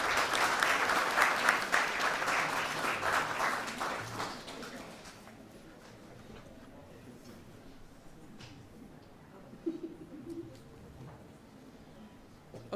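An audience at an economics policy discussion forum applauds after a speaker's talk. The clapping is dense and loud for about four seconds, then thins to scattered claps and faint room noise.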